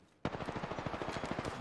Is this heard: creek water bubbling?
no